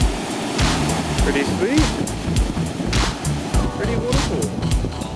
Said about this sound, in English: You see the way the water's falling, it's creating this whirlpool effect.